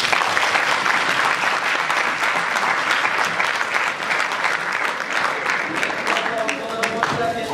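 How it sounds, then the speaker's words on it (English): Sustained applause from a conference audience, many hands clapping steadily at a fairly loud level, with a faint voice and a few tonal sounds near the end. "Let's give them a round of applause."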